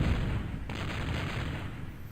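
Flak guns firing at an incoming bombing raid in Nota, a real-time strategy game, form a dense, continuous barrage of rumbling, crackling gunfire that stays loud and steady throughout, with no voices.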